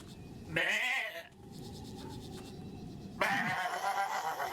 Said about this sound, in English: This sounds like more like the goat scream